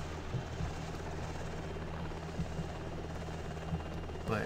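Steady whirring hum of a helicopter in the Prepar3D flight simulator, its rotor drone continuous and even, with a few faint clicks over it.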